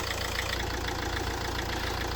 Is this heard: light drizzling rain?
no